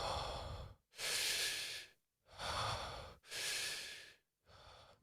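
Deep rhythmic breathing exercise of about 30 full breaths, with long loud inhales and exhales at close range in an even cycle of five airy breaths separated by brief pauses, with no talking.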